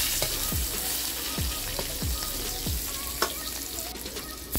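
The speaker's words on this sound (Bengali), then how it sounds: "এবার আলুটাকে হালকা লাল করে ভেজে নেব" Potato pieces and chunks of raw green mango frying in hot oil in a pan, a continuous close sizzle broken by several soft thuds and spatters as the pieces are stirred and turned.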